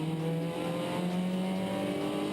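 Datsun 1200 race car working through a hairpin, its engine a steady, fairly loud drone with a sustained low tone that holds through the corner and shifts slightly in pitch, with no voices.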